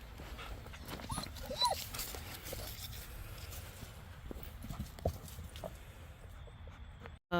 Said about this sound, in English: She is a hound dog of some variety, maybe mix, maybe pure.